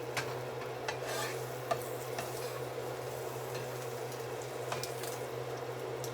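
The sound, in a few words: French toast being flipped and frying in a pan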